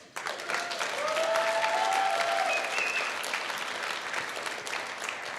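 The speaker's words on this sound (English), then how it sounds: "let's give the stunning bride another round of applause" Wedding guests at the Fairmont Chateau Laurier in Ottawa applaud the bride, a sudden full burst of clapping with a few cheers that holds steady and eases slightly toward the end.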